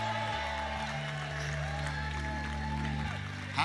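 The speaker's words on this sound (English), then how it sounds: "Clap your hands and shout to God with a voice of" Church congregation clapping and shouting in praise under sustained music, a dense steady roar of applause and voices filling the room throughout.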